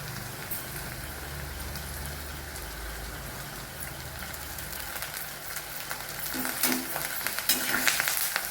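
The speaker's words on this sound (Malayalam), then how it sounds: "എന്നിട്ട് നന്നായിട്ടൊന്ന് വഴറ്റണം." Pounded curry base with curry leaves sautéing in a pan for vatha kuzhambu, a steady close sizzle with stirring scrapes that grows louder and crackles more toward the end.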